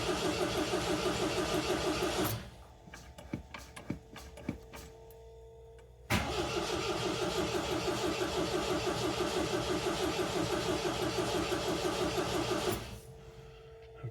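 A car engine on bad fuel cranks loudly in a steady whirring churn for about two seconds, stops, then cranks again for a long stretch of roughly seven seconds without catching, with faint clicks in the quiet gap between attempts.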